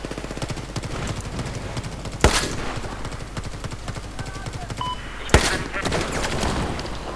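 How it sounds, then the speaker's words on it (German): A grenade launcher fires in Battlefield 4 amid a firefight, two sharp, loud blasts about three seconds apart standing out over steady rattling rapid gunfire. "Ich schieß mit Granaten auf den"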